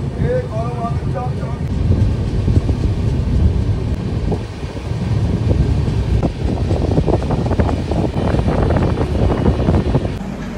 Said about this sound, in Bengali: 5:55-তে আমাদের ট্রেন পরশুনাথ স্টেশন থেকে ছেড়ে দিচ্ছে